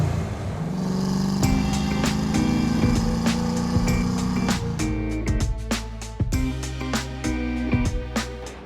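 A vintage Ford Mustang on the road to Badwater in Death Valley, its engine droning steadily inside the cabin while clicks and rattles tap through irregularly; no voices.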